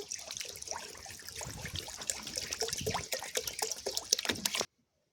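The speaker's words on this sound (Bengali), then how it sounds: "কড়াইতে দিয়ে দেব জল।" Water splashes and trickles into a wok on a lit stove for a few seconds at a soft, close level, then cuts to silence.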